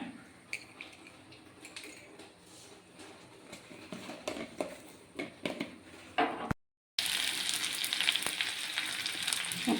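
Spices for tempering hit hot oil for a cheruparippu cheera curry of split lentils and greens, first with quiet clinks and stirring, then after a brief gap bursting into a loud, continuous crackling sizzle.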